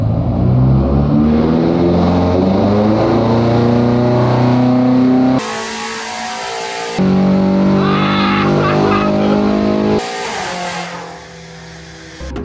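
A tuned BMW M5 with its OPF filters removed revs hard and loud close by, the engine note climbing and holding in long bursts that cut off abruptly between pulls.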